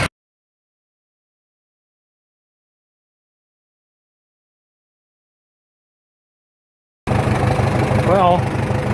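A 1947 Farmall M tractor engine runs steadily just above idle in fourth gear, starting abruptly after long silence and lasting only about two seconds at the end.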